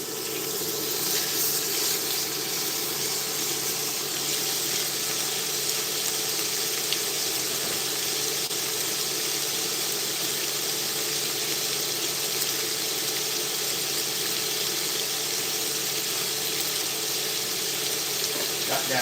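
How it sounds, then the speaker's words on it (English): Water runs steadily from a kitchen tap as a bowl is rinsed, a continuous close hiss and splash with no break throughout. "Got that bowl all rinsed off here so I can add it back to the bowl."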